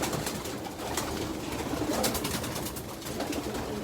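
Young racing pigeons, a 2020 team including Fabry, Jansen and Leo Heremans lines, coo softly and steadily in a loft, with a constant murmur of overlapping calls and light rustling throughout.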